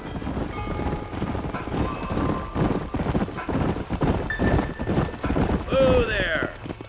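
Horses trotting in Red Dead Redemption with rapid clip-clop hoofbeats, joined by a whinny near the end, with game music and faint voices underneath.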